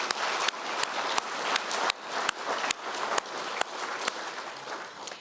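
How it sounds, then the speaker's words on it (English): A gala audience at a Make-A-Wish Idaho fundraiser applauds a staff member with loud, sustained clapping from a large crowd, punctuated by sharp, regular bursts of nearby claps. "So please, let's give her a big round of applause."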